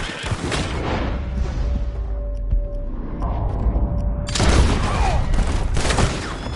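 Gunfire in the open-world western game Red Dead Redemption 2: a loud, rapid fusillade of shots cracking over a rumbling backdrop, easing briefly before another heavy burst.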